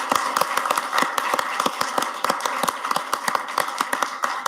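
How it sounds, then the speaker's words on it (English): A council meeting audience applauds committee members, a dense run of many hands clapping in an even, sustained burst in an indoor hall. "How about a round of applause for all of our committee"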